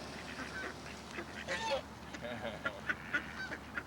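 Ducks honking and quacking at close range while being hand-fed outdoors, several short loud calls toward the end over a steady noisy background, with someone talking intermittently.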